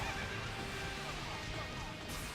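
A horse whinnies in the video game Fire Emblem Warriors amid dense battle noise, a brief neigh rising over a constant loud clatter of game sounds.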